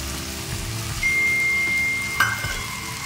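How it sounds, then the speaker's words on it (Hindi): Oats poured into a frying pan of sizzling vegetables for masala oats: a steady close fry hiss that swells as the oats land, with a brief scrape of stirring near the end. "अब इसी के साथ ये ओट्स हम डाल दे रहे हैं।"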